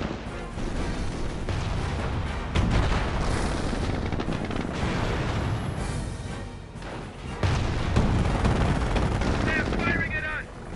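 Dense battlefield gunfire in the World War II strategy game Company of Heroes on Android: loud, continuous machine-gun rattle mixed with booming explosions and crashes, with brief voices shouting among the din.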